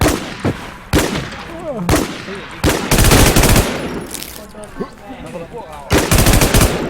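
Bursts of rapid automatic gunfire in a video game, loud and near, with several separate volleys separated by short pauses while players talk excitedly over them.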